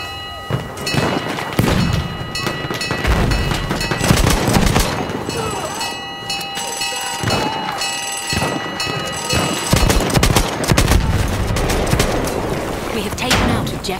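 Gunfire and explosions from a battle in the video game Battlefield 1, Sinai Desert map: dense rapid shots and heavy thuds over a continuous loud battle din.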